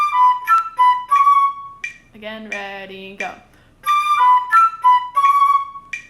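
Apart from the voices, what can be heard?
flute playing five-note excerpts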